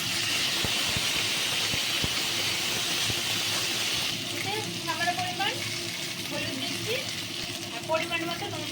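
Potatoes and tempering spices fry in a pan, giving a steady loud sizzle that eases after a few seconds, with occasional stirring clinks and someone speaking over it.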